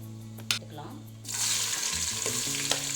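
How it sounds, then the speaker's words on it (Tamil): Cinnamon, cloves, cardamom and a bay leaf hit hot oil for chicken biryani: after a near-quiet start with a few small knocks, a loud, sustained sizzle bursts in and continues. "எண்ணெய் ஊற்றிக்கலாம். பட்டை, கிராம்பு, ஏலக்காய், பிரிஞ்சி இலை போட்டுக்கலாம்."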